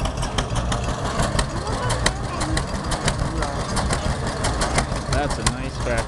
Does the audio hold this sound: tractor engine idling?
yes